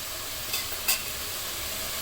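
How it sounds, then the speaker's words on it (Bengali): Ground spices are stirred into a sizzling beef and radish curry in a pan, a steady frying hiss with a couple of brief scraping strokes. "গুঁড়া মশলাটা দিয়ে সাথে সাথে নেড়ে দিবেন তাহলে আর নিচে লেগে যাবে না"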